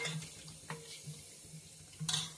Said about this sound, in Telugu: నీళ్ళు పోసి కలిపేసుకుని